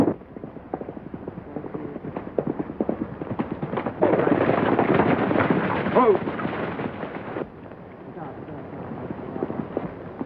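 Horse hooves clatter in an irregular drumming under loud rumbling noise and shouted voices, swelling in the middle before easing off.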